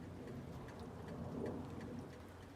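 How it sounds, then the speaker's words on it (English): Rain falls outdoors on a rainy day, a soft, continuous hiss with scattered faint drop taps, fairly distant and low in level. "It's kind of a rainy day"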